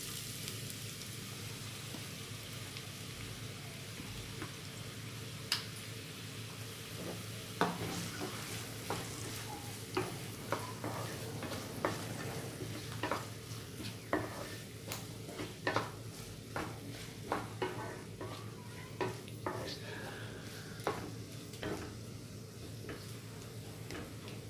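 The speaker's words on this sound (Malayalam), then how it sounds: "എണ്ണ ചൂടായിട്ടുണ്ട്. സവാള ഇട്ട് കൊടുക്കുകയാണ്." Onions dropped into hot oil in a pan, frying with a steady sizzling hiss broken by scattered sharp crackles and pops, close and moderately loud, with no voices.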